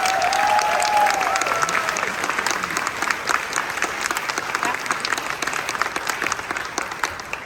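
A crowd at a game development panel at the GCX convention claps in sustained applause, dense and even, with a brief whistle early on, gradually thinning slightly toward the end.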